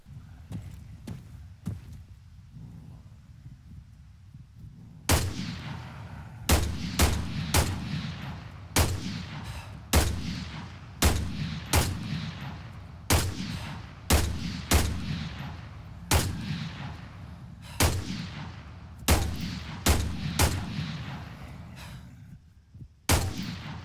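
FAMAS rifle gunfire in the Breaking Point game: a few quieter shots at first, then loud, sharp bursts repeat steadily at close range, each echoing briefly, with no voices.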